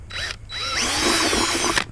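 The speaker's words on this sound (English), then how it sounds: "I'm using a 7/32 drill bit." A power drill with a 7/32 drill bit bores a hole while mounting a Giant Loop tail rack on a motorcycle, with a short whine, a pause, then a steady grinding drill run.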